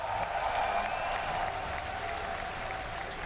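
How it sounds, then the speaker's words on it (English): A crowd at the Gamescom 2012 StarCraft 2 finals cheers and applauds for Nerchio, a dense, steady roar of clapping that holds throughout. "give a cheer for Acer's Nerchio!"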